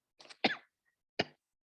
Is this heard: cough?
yes